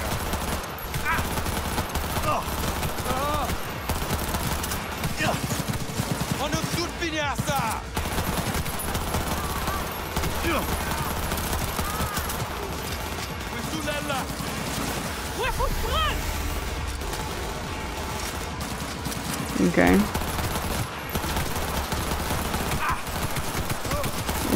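Near-constant automatic gunfire in Cyberpunk 2077, a thick, moderately loud stream of rapid shots that runs through the whole stretch, with occasional speech over it.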